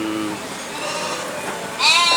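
Goats of the bligon or Jawa Randu breed bleat at an agricultural expo, wavering cries rising over a crowd murmur, with a louder, higher bleat near the end.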